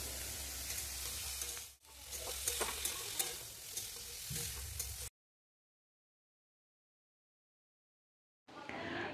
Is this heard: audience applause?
no